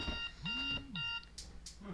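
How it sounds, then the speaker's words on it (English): An alarm clock beeps in three quick bursts of harmonic tones, with a brief swooping whistle-like sound partway through and faint noise around it. "that was my alarm"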